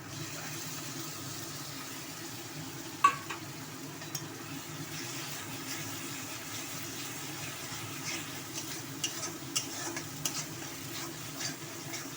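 Beaten yogurt going into a frying Bengali doi katla fish curry, a quiet low sizzle with a sharp clink and scattered light stirring taps, heard faintly with no talk.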